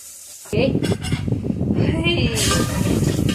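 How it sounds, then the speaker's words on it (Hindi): Water poured into a pan of Maggi noodles with a sizzling tadka on a gas stove sets off a loud hiss and bubbling sizzle, with a brief clink and a voice talking over it. "अब मुझे डालना है पानी।"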